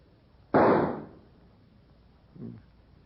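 A single sharp Winchester rifle shot rings out close and loud, decaying over half a second, followed by a faint softer knock a couple of seconds later.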